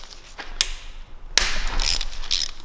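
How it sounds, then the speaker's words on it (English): A ratchet wrench loosens oil pump bolts on a BMW S54 engine, giving several close, sharp clicks and short runs of ratcheting between them, with faint metallic handling noise. "So now I'm going to remove the oil pump."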